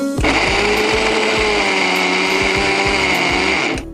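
A kitchen mixer grinder whirs steadily while blending sweet potato batter for bobbatlu, a loud continuous motor drone with a rhythmic thumping of the jar contents, running about four seconds before cutting off.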